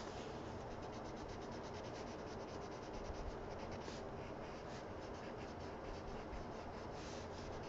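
Colored pencil shading on paper, coloring a dragon in an adult coloring book, makes a steady, close, dry scratchy rubbing that is continuous and soft, with no talking.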